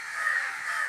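Crows caw outdoors, a pair of harsh, drawn-out calls close together, fairly loud and clear with no talking.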